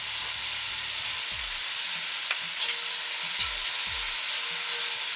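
Vegetables brown and sizzle in a hot pan for braised beef, a steady close hiss of frying with a few soft low scrapes of stirring and no talk.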